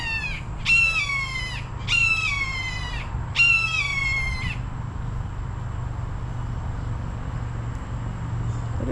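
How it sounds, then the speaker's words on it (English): A hawk near its nest gives three loud, harsh, descending screeches spaced about a second apart, then falls silent over a steady outdoor background hum. "that is a hawk."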